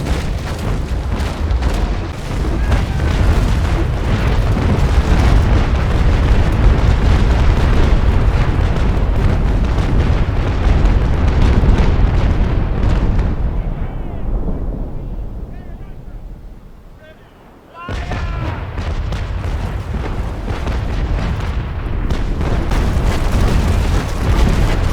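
Naval Action sea battle with cannons firing and balls striking wooden ships: a dense, loud, continuous wash of booms and rumbling impacts that fades briefly to near silence, then resumes at full force.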